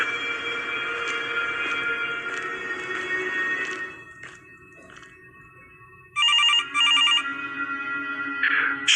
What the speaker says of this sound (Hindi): शायद उन्होंने दोबारा फोन किया।